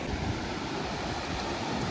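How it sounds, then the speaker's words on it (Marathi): Steady, dense rush of water at Ruichonda Waterfall near Mandohol Dam roaring without pause, loud and close, with a broad noisy texture like heavy falling water. "हे पाणी वाहत आहे त्या धबधब्याचं"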